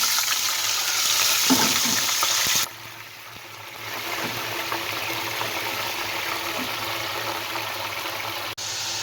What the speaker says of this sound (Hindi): चिकन को तकरीबन फ्राई होते हुए 1 से 2 मिनट हो चुका है